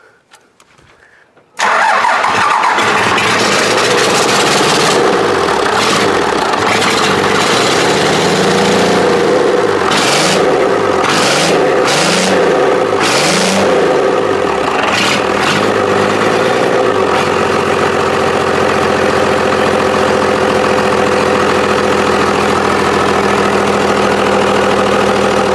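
A Cummins diesel engine cranks and fires after a quiet moment, then revs several times in loud, rising and falling pulses before settling into a steady, rumbling idle close by.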